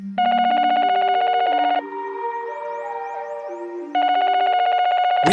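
Telephone keypad tones sound through a steady loud pattern, then a ringing tone, then the tones again before the line clicks, all close and with no talk, as a call is placed.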